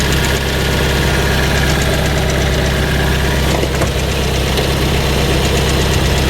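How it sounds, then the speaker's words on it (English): A Fiat 500 engine with a failing starter motor runs close and loud, a steady rough idle with a faint knocking vibration throughout and a brief disturbance near the middle. "If you listen to this when I start it up, listen to that, I think that's, I'm almost sure that's the starter motor"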